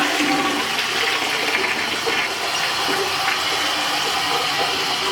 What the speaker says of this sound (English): the water is running.